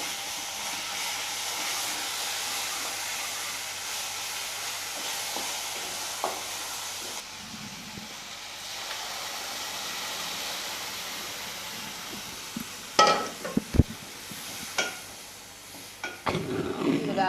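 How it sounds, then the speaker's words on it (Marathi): Amaranth leaf bhaji stirred and frying in a pan, a steady low sizzle with scraping and clattering stirs that grow sharper and louder toward the end. "पूर्ण भाजी अशी छान मिक्स करून घ्यायची"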